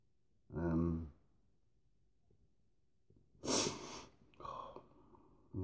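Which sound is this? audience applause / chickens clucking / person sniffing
person sniffing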